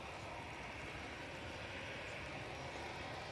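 An Emirates A380 airliner on the taxiway gives off a steady, broad, faint engine roar, distant and unchanging across the short stretch.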